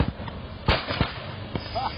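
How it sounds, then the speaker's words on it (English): Fireworks go off from a burning truck carrying over 100 pounds of them in Idaho, heard as several sharp distant pops and bangs at irregular intervals over a steady outdoor background. "a midday fireworks show lit up the sky in Idaho after a truck carrying the fireworks caught on fire"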